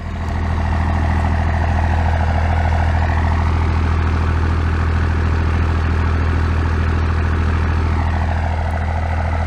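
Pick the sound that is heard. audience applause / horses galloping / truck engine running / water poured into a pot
truck engine running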